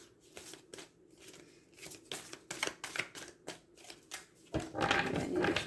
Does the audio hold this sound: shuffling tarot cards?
yes